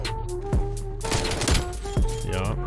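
Bullfrog SMG fire in Black Ops Cold War comes as sharp, evenly spaced shots and short bursts over a droning game soundtrack. The gunfire is loud and close.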